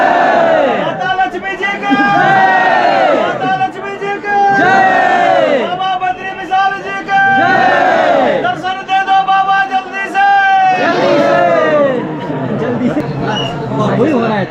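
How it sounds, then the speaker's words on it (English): A large crowd of pilgrims waiting at the entrance of Badrinath chants and shouts in loud, rhythmic, repeated bursts of voices, with crowd chatter filling the gaps between calls. "the crowd is not moving ahead"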